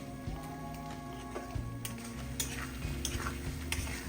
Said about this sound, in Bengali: কিছুক্ষণ বাদে বাদে এই শেফ অন্য যা কাজ করছে তার সাথে সাথে এসে নাড়িয়ে দিচ্ছে।